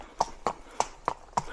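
A horse's hooves clip-clop in a slow, steady rhythm, five distinct strikes fairly close by, with no talk over them.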